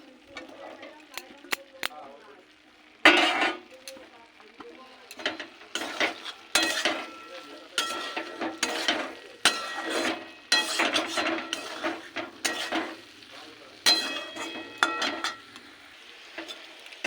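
Cauliflower being stirred and fried with moong lentils in a pan for a ghonto curry, with repeated metallic scraping and clatter of a spatula in bursts, a faint sizzle underneath, and a voice speaking softly in the background.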